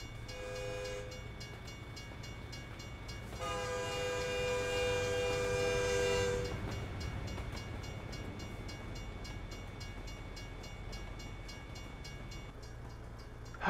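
A long train rolls past in American Truck Simulator with a steady rumble and rhythmic clatter, a loud horn blaring for a few seconds partway through.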